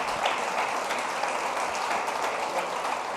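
A church congregation bursts into sustained, dense applause, loud and close, with many hands clapping steadily throughout.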